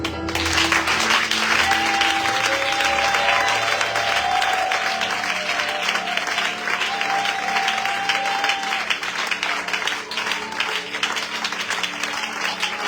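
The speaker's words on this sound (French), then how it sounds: "que nous commencions à acclamer le Seigneur" A church congregation applauds and cheers in praise during a resurrection-season service, dense sustained clapping with voices filling the room, loud and continuous throughout.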